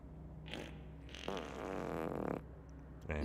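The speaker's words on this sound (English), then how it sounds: "And farts." A drawn-out, rumbling fart of moderate loudness lasts a few seconds, followed by a short final burst, with no talking over it.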